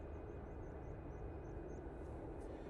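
An easyJet Airbus A320neo jet taking off at Manchester Airport, heard as a steady, broad roar of engine noise at a distance that holds evenly throughout, with faint chirping birds above it.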